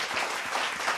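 An audience claps in a short, dense burst of applause, many hands close together, with no voices.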